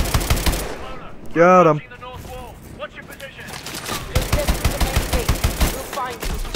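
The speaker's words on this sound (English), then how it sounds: "Who's shooting me from behind?" Close, rapid bursts of automatic gunfire in Call of Duty Advanced Warfare, coming from behind the player. Loud volleys open and close the stretch, with a brief electronic tone and a short spoken line in the middle.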